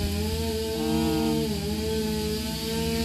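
Lawnmower engines drone outdoors by a park trail, a loud, steady motor whine that wavers slightly in pitch throughout with no talking.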